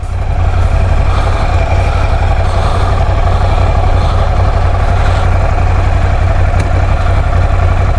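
A motorcycle engine idles steadily before a ride, its loud low rumble continuous and close throughout with no change in pitch.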